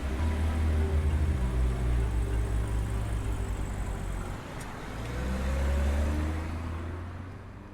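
A car drives along a road as an audiobook sound effect, a continuous low rumble of engine and tyres that swells and fades slightly, with no voices over it.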